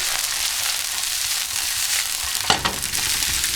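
Onions and ginger sautéing in a pan at medium-low heat make a continuous crackling sizzle, broken midway by a brief scrape and clatter of stirring.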